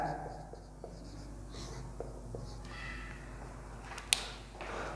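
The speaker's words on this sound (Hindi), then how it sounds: "हम इसको लिखते हैं।" Pen scratching on paper while a geometry theorem is written out, soft irregular strokes and small taps under a quiet room hum.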